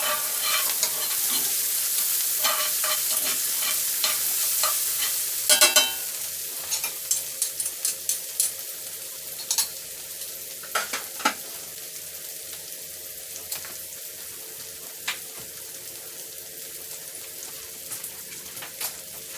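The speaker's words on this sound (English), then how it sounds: "Now we're going to put our mushrooms in there, stir that in there. Let those cook down just a little bit." Mushrooms frying in a cast iron skillet for chicken broccoli pasta, a steady sizzle broken by repeated sharp scrapes and knocks of stirring that grow sparser toward the end, close and unaccompanied by talk.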